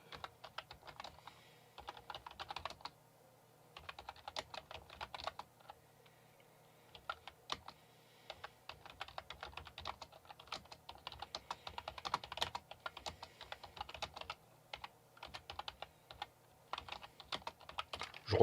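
Rapid, irregular clicking of keys on a computer keyboard, typed in bursts with short pauses, close and fairly quiet, with no talking.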